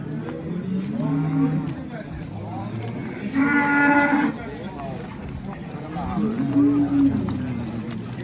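Cattle at Andijan's Yakkatut livestock bazaar give three long, loud moos at intervals, close by amid the market bustle, while people talk nearby.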